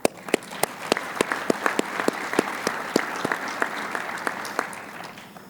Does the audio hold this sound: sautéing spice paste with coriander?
no